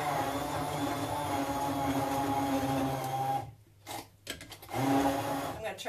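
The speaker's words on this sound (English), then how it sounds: "With this little blender thing." A small electric blender whirs steadily close by, cuts out briefly, then buzzes back on at a similar pitch.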